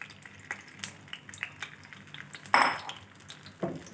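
An egg hitting a pan of well-heated oil, giving a sudden bright sizzle that flares loudly and then fades, with light clinks of utensils before and after in a home kitchen.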